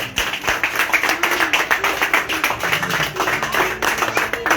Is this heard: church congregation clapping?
yes